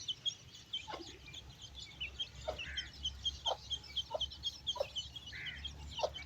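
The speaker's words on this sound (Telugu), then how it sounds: "ఇప్పుడే కోడి సజ్జు కొడుతుంది." Hens on a poultry farm keeping Peruvian cross breeder birds cluck in a steady series of short, repeated calls. The calls are moderately close over a soft background of other birds, and nobody talks.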